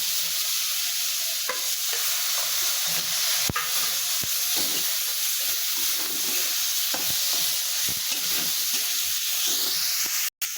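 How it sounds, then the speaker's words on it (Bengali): Garlic and onion paste sizzles in a hot pan for a snail and poppy-seed dish. A steady, close frying hiss runs throughout, broken by sharp clicks and scrapes of stirring, with no talk. "রসুন আর পেঁয়াজ বাটা দিয়ে দিচ্ছি।"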